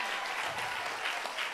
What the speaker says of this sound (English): Can you clap hands for Jesus?